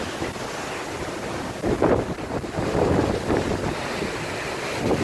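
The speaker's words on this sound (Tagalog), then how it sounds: "Dito sa bagyong Rolly talaga napakalakas na ng hangin dito." Strong wind from Super Typhoon Rolly (Goni) in Quezon Province whips through coconut trees. It makes a continuous, loud, gusting roar that buffets the microphone and swells around the middle.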